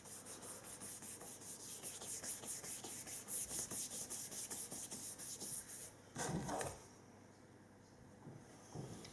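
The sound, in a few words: rubbing down the sides of a cake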